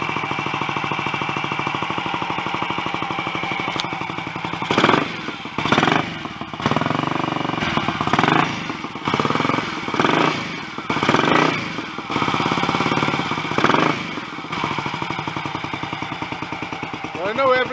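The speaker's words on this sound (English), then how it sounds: "Grab a bit on the tick over there while it warms up a little." A Royal Enfield 250 GT motorcycle engine ticks over at idle while warming up, a close, loud mechanical chuffing and clatter with rhythmic pulsing and occasional uneven surges.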